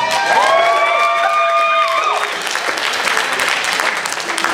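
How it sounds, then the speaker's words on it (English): Loud, dense applause from an improv comedy show audience for a performer named Dom, opening with a whooping cheer and then settling into steady clapping. "Dom, give Dom an extra round of applause."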